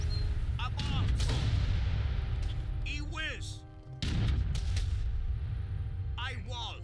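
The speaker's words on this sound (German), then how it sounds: "So, 4 Kanonen können doch schon so einiges ausmachen." Cannon fire in Age of Empires 3 during a naval battle: a few heavy booming shots with sharp onsets and rumbling tails, mixed into steady battle noise with a voice talking over it.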